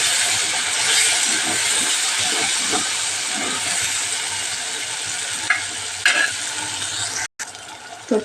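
Tomato chutney with red chili cooks in a pan, giving a steady, close sizzle and hiss throughout, with soft stirring scrapes and a brief quiet gap near the end.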